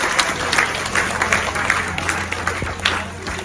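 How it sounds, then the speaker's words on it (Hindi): An audience claps at an annual picnic gathering, lively close applause with uneven bursts and a faint low hum underneath, sustained for the whole stretch. "मैं चाहूंगा कि आप तालियां बजाएं"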